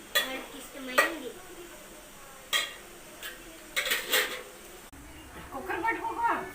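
Potatoes being stirred in a cooking pan, with scattered clinks and scrapes of a utensil against the pan over a faint sizzle, and people talking nearby.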